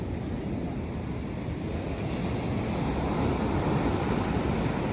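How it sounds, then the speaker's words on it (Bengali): Sea waves at Puri beach roll and break in a continuous loud wash of surf, with wind buffeting the microphone and no voices over it. "দিগন্ত বিস্তৃত সমুদ্র"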